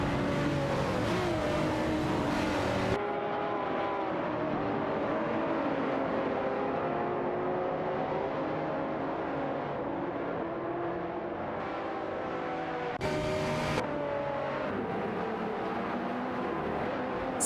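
Racing engines roar continuously in an AI-driven racing video game with GT cars including a Lamborghini Gallardo GT3, a dense loud drone with shifting pitch as cars rev and pass.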